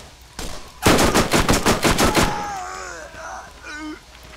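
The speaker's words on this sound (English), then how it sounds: "Oh shit, reload. It's a very inaccurate SMG." Rapid SMG gunfire burst in Borderlands, about eight loud, close shots in quick rhythm, followed by fading reverb and game sounds with a brief voice-like tonal sweep.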